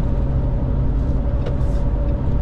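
Steady low road roar and tire hum inside a 2023 RAM 2500 pickup cruising at about 65 mph on the highway, continuous and fairly loud, with a faint brief whoosh midway and no talking.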